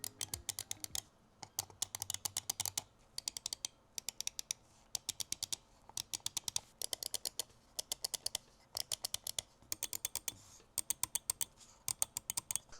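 Sony INZONE gaming mouse with optical micro switches, clicked in rapid bursts of crisp, sharp clicks with short pauses between groups, close and clean against a quiet background.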